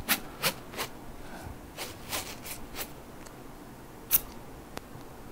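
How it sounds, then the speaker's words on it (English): Adhesive tape is pulled and pressed on while securing a short leg bulky Jones splint, giving a series of brief crackling rips and taps at close range, with no one speaking. "Use a tape to secure that."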